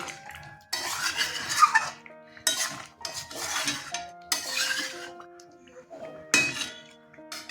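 A spoon stirs chicken and potato curry with Kashmiri chili in a metal pot: several separate bursts of scraping and clinking with short quiet gaps, close and clear, then a lid clinks on.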